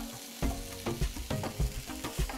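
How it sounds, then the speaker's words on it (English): A burger patty frying in hot oil on a stove, giving a steady close sizzle broken by rhythmic scraping and stirring knocks about every half second. "You want to hear that sizzle."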